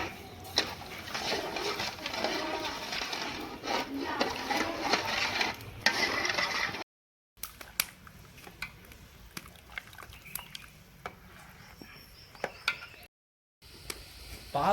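A spoon keeps scraping and swirling through sugar syrup dissolving in a pan for honey candy, a close, continuous rhythmic stir with faint bubbling, broken by two short silent gaps.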